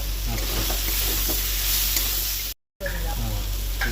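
Onion and garlic added to a frying pan while cooking a potol and prawn dish, giving a loud, close, hissing sizzle that cuts out briefly for a moment before resuming.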